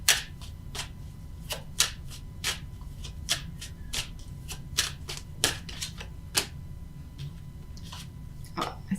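Tarot cards are shuffled and drawn by hand, giving a steady run of crisp, close flicks and riffles over a low background hum, with no talking.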